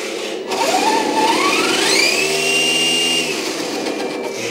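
A 1/14 scale RC Benz 8x8 metal-chassis truck with a 3-speed gearbox running in high gear, its electric motor whining loudly and sweeping up in pitch as it speeds up, then holding a steady high tone.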